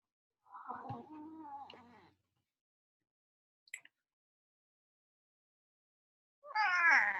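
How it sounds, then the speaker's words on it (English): A house cat meows twice, two drawn-out cries separated by several seconds of quiet and a faint tap, while it climbs over a table during a calm guided meditation. "excuse my cat who is climbing all over the table"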